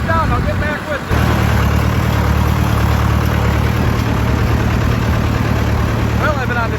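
Massey Ferguson 285 tractor engine idling, a loud steady low rumble with a constant hum that kicks in after a second, while someone talks over it.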